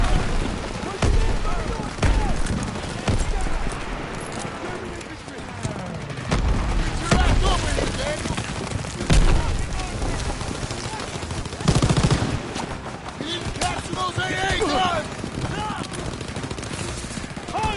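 Heavy WWII video game combat: dense machine-gun and rifle fire with booming blasts rattles continuously at close range while soldiers shout orders over it.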